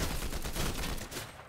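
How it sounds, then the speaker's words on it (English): A lever action shotgun fires in Fortnite, a short rapid burst of several close, loud blasts in quick succession, then a brief tail as it fades. "I can only just go with the, good old lever action shotgun"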